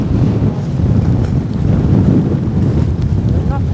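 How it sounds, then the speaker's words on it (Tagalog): Strong wind roars steadily across the microphone at a pier, a constant low rumble with faint water sounds beneath it. "malakas na yung hangin no."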